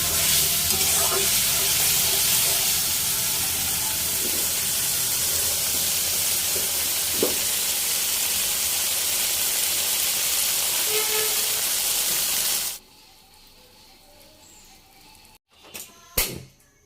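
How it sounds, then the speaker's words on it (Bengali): Spice paste and tomato frying in oil for Aar fish curry in a village kitchen, a loud steady hiss that runs close and unbroken for about thirteen seconds, then drops away to near quiet with a few soft knocks. "মশলাগুলো এরকম কষিয়ে নিতে নিতে যখন তেল উপরে ভেসে উঠবে তখন বুঝবো যে মশলা কষানো হয়ে গেছে"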